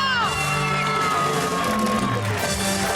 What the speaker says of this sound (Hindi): दानिश अजीज साहब के लिए भी बहुत सारी तालियां।